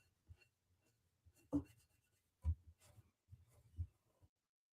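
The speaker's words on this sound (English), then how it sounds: "I will do a little erasing now" Stylus rubbing across a drawing tablet screen while erasing part of a shark sketch, heard as several short, soft scratchy strokes separated by pauses, close and quiet.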